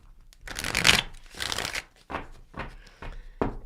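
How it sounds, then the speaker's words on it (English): A tarot card deck being shuffled in several separate bursts of riffling and flicking, close and fairly loud, alone with no talk. "let me give this a big of a shuffle"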